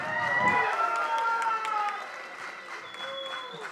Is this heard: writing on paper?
no